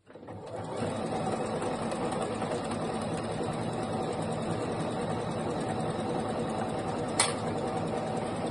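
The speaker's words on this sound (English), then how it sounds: "I'm just going to literally sew right the way round." A sewing machine runs continuously and evenly, stitching binding around the edge of fabric, a close, fast mechanical whir with steady motor hum and one brief sharp click near the end, with no talk.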